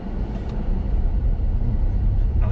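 A Ford Mustang Mach-E electric car in sport mode accelerates with a steady, low rumble of road and wind noise and no engine roar, heard from inside the cabin at an even level throughout.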